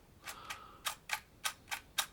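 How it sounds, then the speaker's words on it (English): Clicks from a Zenit ET film camera with a Helios 44M-2 lens as its shutter button is pressed, six or seven sharp, close mechanical ticks in quick succession. "as we press the shutter button down, the little metal bar"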